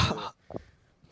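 A single short cough, two quick bursts close together, heard nearby after a brief stretch of loud background noise, then near silence.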